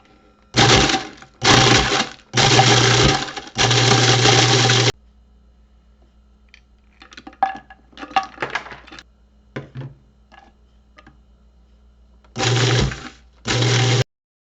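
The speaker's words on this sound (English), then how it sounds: "I'm going to mix these all up in the food processor. I'm going to start with the graham crackers, and then I'm going to add one ingredient at a time and use the pulse setting" A food processor pulses graham crackers and pecans in loud short bursts, four whirring pulses close together, a pause filled with rattling and clattering, then two more bursts.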